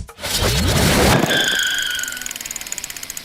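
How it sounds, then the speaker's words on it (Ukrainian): Car braking suddenly on a road near a mountain town in Turkey, a loud tire squeal lasting about a second, followed by a fading rhythmic ticking. "біля Володі раптово загальмувала дорога машина"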